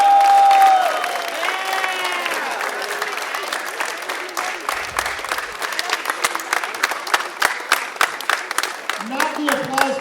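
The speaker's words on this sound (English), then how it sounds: "let's give those folks a round of applause" Concert audience at the La Honda music camp last-day show bursts into loud, sustained applause with scattered cheers and whoops, tapering into steady clapping before a voice begins speaking near the end.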